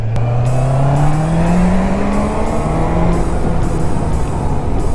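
A motorcycle engine holds a loud, steady drone with its pitch climbing gradually as the bike rides along, close and continuous with no talk over it.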